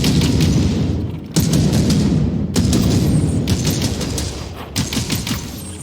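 Sustained automatic gunfire from a bolter-style gun hammers away at shooting targets in Warhammer 40,000: Battle Sister VR, loud rattling bursts broken by short gaps, close and dominant with no talking.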